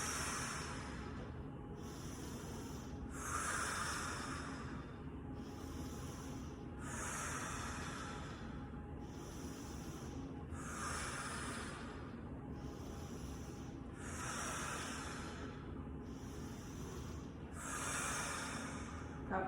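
Repeated forceful exhales during a yoga twist for core work, rhythmic breathy whooshes roughly every two seconds, close and steady over faint background noise.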